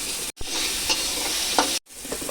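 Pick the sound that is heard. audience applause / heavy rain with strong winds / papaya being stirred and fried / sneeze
papaya being stirred and fried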